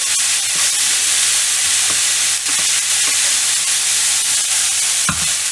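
Lardons and onions fry over high heat in a pan, a loud, constant close sizzle with occasional scraping stirs and a sharper clatter near the end, no voices.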